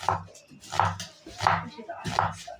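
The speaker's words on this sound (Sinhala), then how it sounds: "අපි මුලින්ම ලූණු ටික කපා ගන්න." A knife chops onions on a board while preparing a potato pasta dish, four or five firm, evenly spaced strokes heard close up, with no talking over them.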